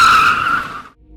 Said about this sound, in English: I slammed on the brakes, skidding to a stop in the middle of the road.